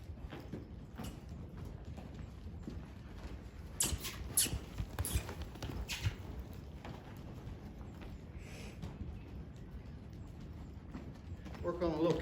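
A two-year-old filly's hooves cantering in rhythmic clip-clop beats, moderately close and faint, with a rider talking over the hoofbeats.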